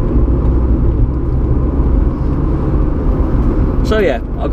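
A small, light car drives along with a loud, steady engine rumble and road noise up close, and someone speaks briefly near the end.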